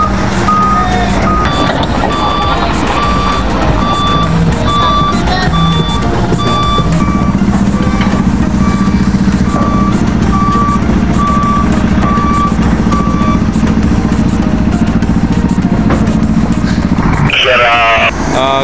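A truck reversing aboard the ferry MV Virgen de Peñafrancia VII in drydock, its backup alarm beeping in a steady, evenly spaced series over loud, continuous engine rumble, with a sharp clatter near the end.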